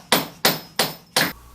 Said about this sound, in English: with a swift shove or pop with a dead blow hammer, fasten the axle into the differential